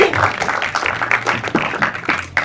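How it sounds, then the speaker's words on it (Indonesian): An audience at a press conference claps steadily throughout, a dense patter of many hands filling the room with no break. "Boleh minta tepuk tangannya lagi?"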